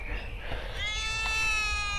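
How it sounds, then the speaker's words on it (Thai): A cat meows with a drawn-out, harmonic cry partway through, over low background rumble and faint murmuring. "ก็จะมีแมวตัวหนึ่งนอนห้องอยู่นี่"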